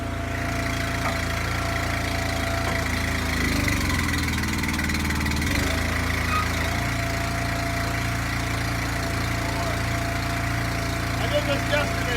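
A gasoline engine on a firewood splitter used for ash rounds runs at a steady idle throughout, loud and close, with a brief shift in tone midway. A person speaks over the engine.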